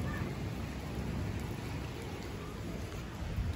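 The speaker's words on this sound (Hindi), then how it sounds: "बारिश रुकने का नाम नहीं ले रही." Steady heavy rain keeps falling outside an office building, a dense continuous wash of noise at an even level throughout, with no voices heard.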